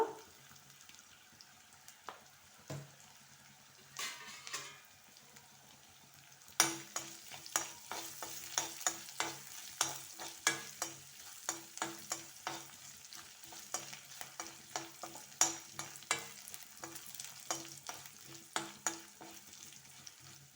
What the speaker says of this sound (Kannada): ಈ ತೆಂಗಿನಕಾಯಿ ಆಯಿಲಲ್ಲಿ ಕರಿದಾಗ ತುಂಬ ಚೆನ್ನಾಗಿರ್ತದೆ ಫ್ರೆಂಡ್ಸ್ ಟೇಸ್ಟು